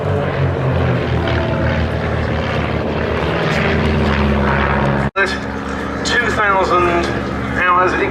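Propeller aircraft of an air show display team roar loudly overhead at Duxford as a pair breaks away in a crossing manoeuvre, engine drone rising and shifting in pitch, with a commentator talking over it.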